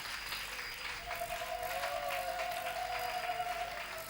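A church congregation applauding and cheering with a steady, dense wash of clapping at a moderate distance, while a sustained tone holds through the middle.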